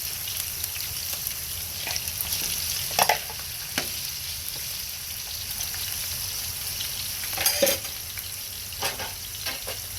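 Chicken pieces frying in oil in a pan on a balcony, a steady soft sizzle with occasional sharper pops and crackles, close and without talk.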